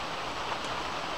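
Steady rain falls outdoors during a hike on the Appalachian Trail under a rock overhang, a dense even hiss of drops with no talking.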